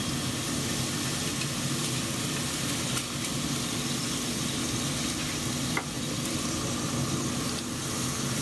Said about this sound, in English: we're cooking on the Pit Boss Pro Series grill